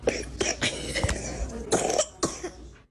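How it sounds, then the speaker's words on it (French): A baby's series of sharp coughs, several bursts in quick succession with short pauses, close and fairly loud, with a little throat clearing. "Et le bébé tousse."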